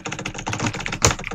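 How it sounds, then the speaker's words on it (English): Rapid, steady typing on a computer keyboard, dense close key clatter with one sharper louder keystroke near the end, no voices. "As you can hear, guys, my keyboard."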